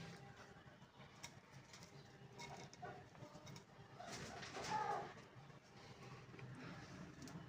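Pigeons cooing inside a bird house holding potter white and Danish breeder pairs, a soft, steady murmur of coos with rustling, one slightly louder stretch in the middle.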